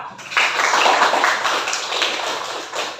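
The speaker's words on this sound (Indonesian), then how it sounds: "Tepuk tangan untuk Alkira." Classroom of students clapping together in applause for a classmate, a dense burst of hand claps that starts abruptly, stays loud and steady for a few seconds, then tapers slightly, with no talking.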